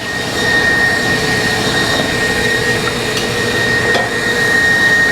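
A loud, continuous whirring drone of an electric mixer beating egg whites to soft peaks, running steadily with a high whine, close and unbroken, no talking.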